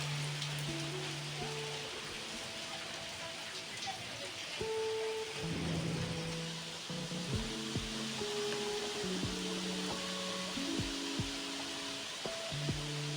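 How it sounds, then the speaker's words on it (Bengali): Monsoon rain falling outside a house, a steady even hiss of drops on surfaces heard at moderate distance, with faint background voices mixed under it. "বর্ষা পড়তে না পড়তেই শুরু হয়ে গেছে বৃষ্টিটা"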